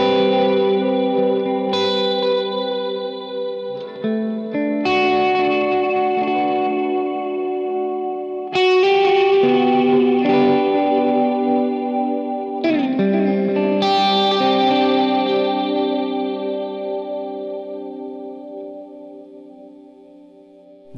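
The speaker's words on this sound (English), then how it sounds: "I'm gonna add in a little cloud reverb from the Big Sky, just a little bit of delay" Ambient electric guitar swells played through an Agape Tribute 18 combo amp with cloud reverb from a Big Sky pedal and light delay: soft sustained chords bloom in one after another, each swell ringing out in a long shimmering wash of echo.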